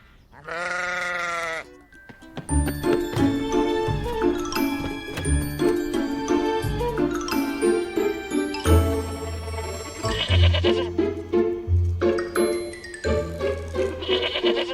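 A sheep gives a long, loud bleat, then several sheep bleat over jingling bells and a busy, musical background, calls repeating close by.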